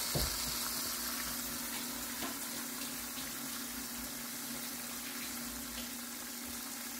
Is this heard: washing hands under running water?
yes